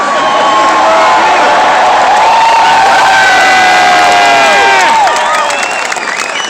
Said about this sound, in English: You can hear how big these crowds are.